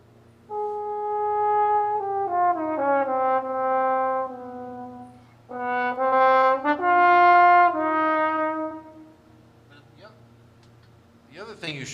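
Solo trombone phrase at a masterclass: sustained, harmonically rich notes in two connected legato passages with a short gap between, played loud and close with a faint low hum underneath.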